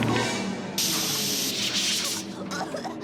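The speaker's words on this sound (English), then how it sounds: "why is the mom spraying the hamster in the face?" Hissing spray bursts aimed at a hamster in a kids TV show, a loud sustained hiss that cuts in and out in two or three spurts over background sound.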